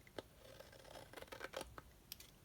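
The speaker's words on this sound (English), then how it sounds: "All I want to do is match up that back cover to the front and trim that so it matches" Scissors snip through a paper junk-journal cover as it is trimmed to size, a few quiet, close cuts and rustles in irregular rhythm over two and a half seconds.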